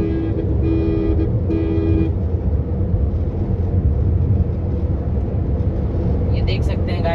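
A Maruti Swift cruising at about 100 km/h with the engine near 2500 RPM, a steady broad road and engine drone filling the cabin, with a short electronic chime at the start and someone talking over it.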